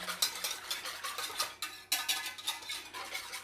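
Salt and pepper being stirred in a pan while making a cheese sauce, heard as a steady run of close, scraping stir strokes with light utensil clinks and a soft sizzle, without speech.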